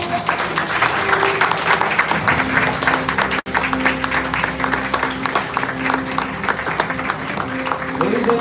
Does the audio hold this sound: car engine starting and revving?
no